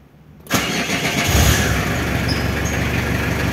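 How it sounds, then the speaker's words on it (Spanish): A Renault Kangoo diesel fitted with a mechanical Bosch VE injection pump cranks briefly on the key, fires near the half-second mark and settles into a steady, loud idle with a low rumble close by. "Ahora voy a ir a darle arranque para que veamos juntos, para que vean que parte con la llave."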